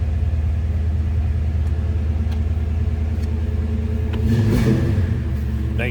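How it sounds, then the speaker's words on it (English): A 1963 Chevrolet Nova convertible street rod idling with a MagnaFlow dual exhaust, a deep steady loping rumble close by, with a brief rev swelling near the end before settling back. "Nice sounding car with a MagnaFlow dual exhaust on there."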